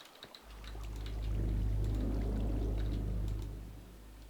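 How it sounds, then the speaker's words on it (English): Water being poured to fill the top of a dirt platform in Minecraft, a steady rushing flow that swells after a short pause and holds loud, then eases off near the end. "now I'm just going to fill the top up with water"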